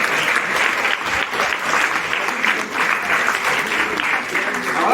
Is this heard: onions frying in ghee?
no